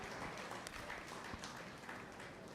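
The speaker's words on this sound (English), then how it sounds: "Let's make the event happening with a big round of applause again" Audience applause fills a large conference hall at a joint triennial conference, a dense, steady wash of clapping that holds evenly throughout without pauses.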